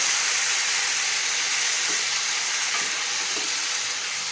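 Potatoes and fenugreek leaves fry in a pan with a loud, dense, continuous sizzle, close and unbroken, with a couple of faint stirring knocks.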